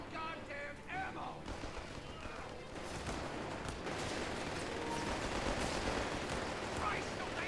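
Machine gun fire in a Company of Heroes 3 battle, a sustained rattling barrage that builds and holds steady with distant explosions, brief voices mixed in early on.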